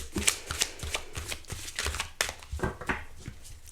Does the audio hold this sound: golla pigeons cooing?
no